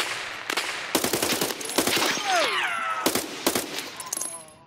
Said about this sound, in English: That's automatic gunfire.